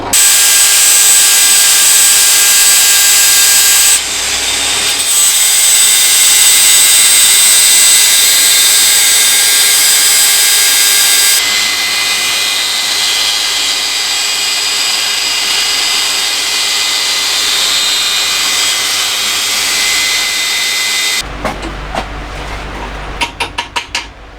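A power tool grinds steadily and loudly for a long stretch, shaping a He-Man Power Sword prop, the harsh metallic whine shifting in tone midway before cutting out into a few clattering knocks at the end.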